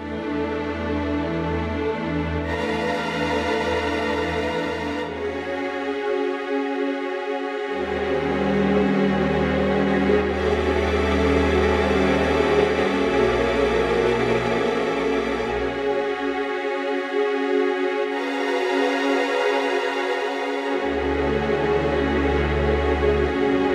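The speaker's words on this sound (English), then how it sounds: "And here is the sound of this progression." A modal triad polychord progression played in three harmonic layers with the bass doubled at the lower octave, sustained chords changing every few seconds, loud and alone with no voice.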